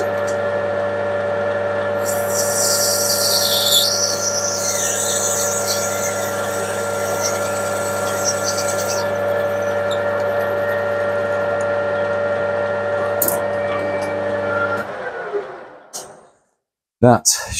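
A machine cuts a flat-bottom hole into a metal fitting, giving a loud, steady whine layered over a humming drone that runs for about fifteen seconds, then winds down to near quiet, followed by a few brief clunks.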